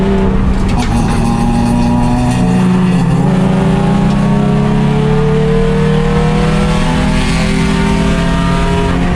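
A $500 race car running in a 24-hour endurance race, its engine droning loud and steady with rising pitch as it accelerates on track, heard from inside the car throughout.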